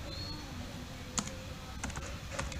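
Command being typed on a computer keyboard: a few sparse, sharp key clicks in small clusters over a steady background hum, fairly close.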